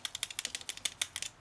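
Small plastic Transformers Animated Ironhide toy accessories drop and clatter onto a hard surface, giving a quick run of about a dozen sharp, light clicks and taps in an uneven rhythm, close up with no talking.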